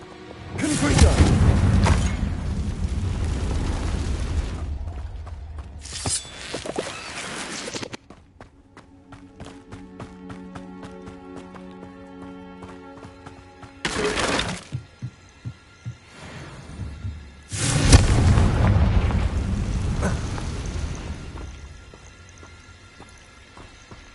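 Blasting-spell explosions in a video game come as two long, loud, deep booming bursts, then a quieter stretch of ringing tonal game sound, then two more heavy blasts.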